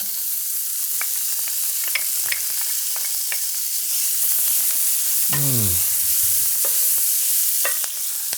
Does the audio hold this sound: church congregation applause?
no